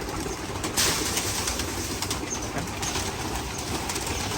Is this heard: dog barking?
no